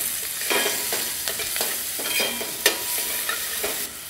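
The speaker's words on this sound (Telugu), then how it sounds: "ఉల్లిపాయలో కొంచెం ఉప్పు వేసుకొని ఉల్లిపాయలు మంచిగా పింకిష్ కలర్ అయ్యేంత వరకు ఫ్రై చేసుకోండి" Salted, finely chopped onions frying in a pan for palak dal, with a soft continuous sizzle broken by repeated scraping stir strokes.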